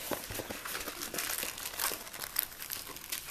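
A white plastic envelope bag crinkles and rustles continuously as a diamond painting kit is pulled out, with close, soft, irregular crackles and no talking.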